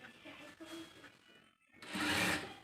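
Sewing machine stitching piping along the very edge of a blouse, a quiet steady whirring that runs in short bursts, pauses briefly, then returns louder and closer.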